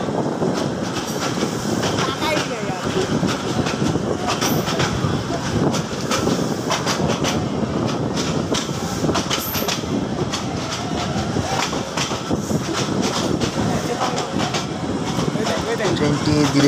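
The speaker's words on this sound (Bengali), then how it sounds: "ট্রেনটি ধীরে ধীরে এগিয়ে চলছে।" A DEMU commuter train near Narayanganj, Bangladesh, heard from inside as it runs along the tracks: a steady, loud rumble with rhythmic wheel clatter throughout, and voices mixed into the background.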